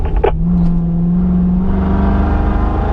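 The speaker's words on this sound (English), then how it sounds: "Squeeze the throttle." A race car's engine pulls hard on a track as the throttle is squeezed after braking and downshifting to fourth gear, giving a loud, close, sustained drone with a rising tone and no talk.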